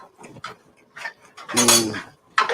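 A utensil clinks and scrapes against a bowl while stirring taco salad, in a few short bursts with quiet gaps, close and moderately loud.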